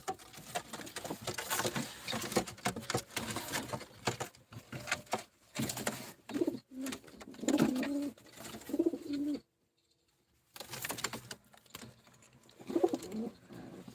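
Pigeons coo and rustle in uneven bursts at moderate volume, with a brief silent pause partway through before the soft calls resume.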